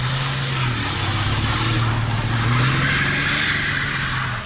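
A Ford Ranger pickup that sat for three years drifts and spins on a wet road, its engine droning steadily and loudly throughout, with a rising whine and tire hiss and no talk.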